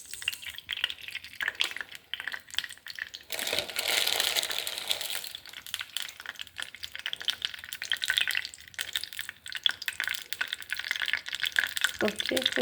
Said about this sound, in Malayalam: കടുക് പൊട്ടിക്കാൻ വേണ്ടിയിട്ട്